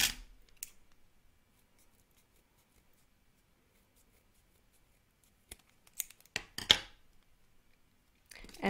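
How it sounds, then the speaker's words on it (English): Sharp scissors snip through fabric while trimming the bottom of a heat-sealed kanzashi petal, a single crisp cut at the start, then quiet, then a small cluster of close, dry snips near the end. "Now trim the bottom of the petal."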